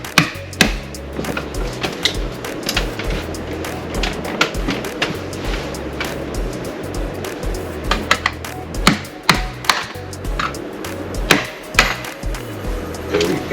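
A hammer strikes siding again and again during a house remodel, loud irregular wooden whacks and knocks in uneven bursts, some blows close together and others spaced apart.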